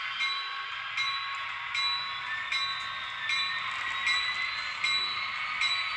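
Steady metallic rolling of a model railroad train on track, crossing over switches, with a constant hum and periodic clicks at rail joints, no talking.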